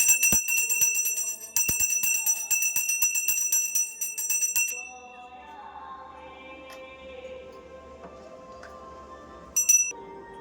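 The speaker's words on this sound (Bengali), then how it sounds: "ঘন্টাটা বাজাও।" Small hand bell rung during a Hindu Dashami puja ritual at home, rapid bright ringing for several seconds, then quieter clinks and a faint hum, with one last short burst of ringing near the end.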